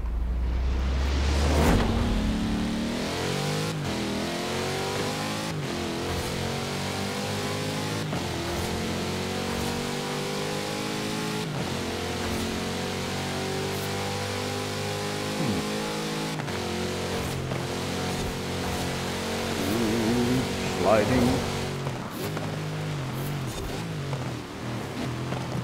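A loud V8 race car engine in the video game Forza Horizon 4 roars continuously, driving in the rain on stock tires, rising and falling in pitch as it revs and shifts, with a brief screech near the end.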